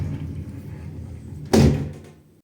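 A glass shower door slides along its freshly fitted bottom seal, a low rumbling glide that ends in a sharp close thud before fading.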